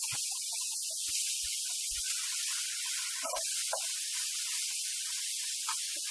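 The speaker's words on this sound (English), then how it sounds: "In with the vegetables. Good stir fry. Cook through." Vegetables sizzling in a chicken stir fry give a steady, bright hiss that runs throughout, with a few faint clinks and taps of cooking utensils.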